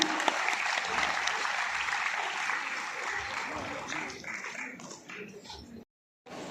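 Audience applause welcoming a teacher about to speak at a government ceremony marking World Day Against Child Labour. Dense, steady clapping fills the hall, thins toward the end and stops abruptly, then resumes briefly.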